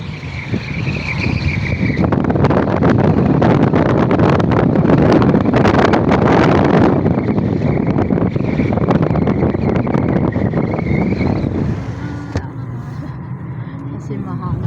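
Wind buffets a microphone outdoors on a cold, windy day, a loud, roaring rumble that swells through the middle and eases near the end, with muffled voices mixed in.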